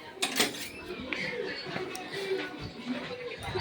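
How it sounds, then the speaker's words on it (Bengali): Dishes and utensils are scrubbed and handled, giving close clinks and clatters of metal and crockery in short bursts while someone talks over them. "এই বাসনগুলো এখন মেজে নেবো"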